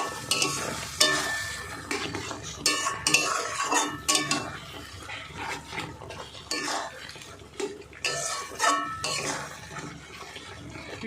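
Prawn curry with poppy seed and mustard paste is stirred in a pan, a spoon scraping and clinking against the metal in irregular bursts over a faint sizzle, close and fairly quiet, with no voices.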